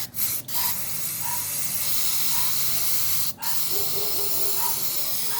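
Steady broadband hiss of a spray paint can blasting continuously onto plastic garden pots, with two brief pauses where the faulty nozzle cuts out, close and fairly loud.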